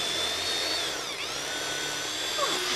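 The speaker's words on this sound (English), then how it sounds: "Oh, sorry, I couldn't hear you. The drill was going." A power drill whines continuously at close range, its pitch dipping briefly midway and sliding again near the end.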